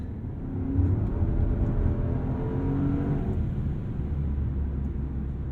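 A rear-drive Maserati Ghibli Trofeo engine accelerates hard in a deep, rich growl that swells after the first second and holds strong, heard from inside the car with no talking.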